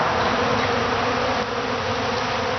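A dense, continuous buzzing of many honey bees close by in spring as they gather flour as a pollen substitute, steady and loud, with no voices.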